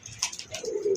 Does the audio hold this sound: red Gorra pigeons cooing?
yes